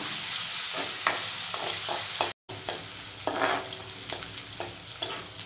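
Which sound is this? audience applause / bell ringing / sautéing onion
sautéing onion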